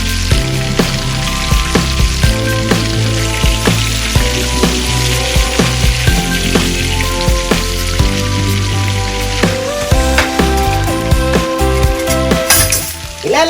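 Salmon fillets pan-seared and flipped in a hot pan, giving a loud steady sizzle with crackling pops spattering throughout and a sudden clatter near the end.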